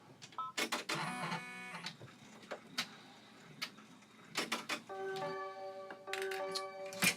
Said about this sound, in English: it just finished stitching the placement stitch